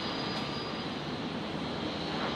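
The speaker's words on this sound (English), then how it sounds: "Looks like we've got the Air Kalin 320 Neo. Just begun its taxi out from International." An Airbus A320neo jet taxiing out at Brisbane Airport at night gives a steady, broad engine roar that holds evenly throughout with no pauses.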